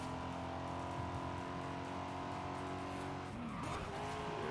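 In Forza Horizon 5, a fast car races flat out around a lap, its engine droning loudly and tires squealing as it skids through a corner near the end.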